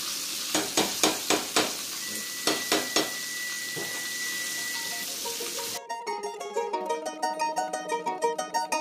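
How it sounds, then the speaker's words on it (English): Hot soup is dumped over a roast in hot grease, raising a loud broadband sizzle with several sharp spattering bursts, then a sudden change to a quieter, tonal clattering pattern in the last few seconds. "So we're going to dump this hot soup on top of it."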